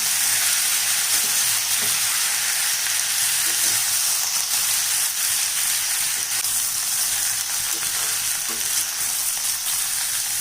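Tender young brinjal sautés in a pan for a Tamil brinjal stir-fry, giving a steady, even sizzle and hiss with faint occasional clinks, continuous and unbroken, with no voices.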